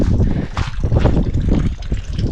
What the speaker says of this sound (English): another one of those water fountains